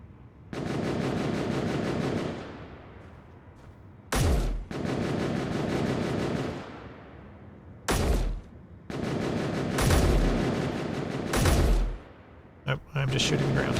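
Video game gunfire aimed at the ground comes in several loud, sharp bursts of rapid shots separated by short pauses, with voices talking in the quieter gaps.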